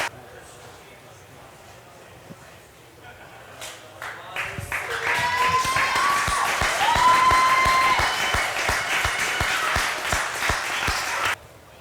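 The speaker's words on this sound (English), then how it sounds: "Everybody, a big round of applause for BenQ coming out to support this event right here today." An audience at an esports award ceremony for StarCraft II and League of Legends breaks into applause that swells and holds for several seconds before stopping abruptly, with a presenter speaking over it.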